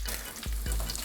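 Food sizzles and fries in a hot pan, a dense close crackling hiss with a couple of stirring scrapes partway through.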